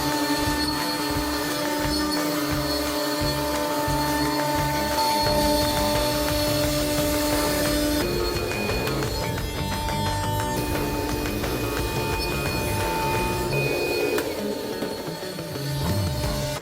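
CNC router with an upcut bit taking a roughing pass through 0.75 inch thick stock, a steady loud machining drone with tonal whine and shifting pitch that carries on without a break, no voices.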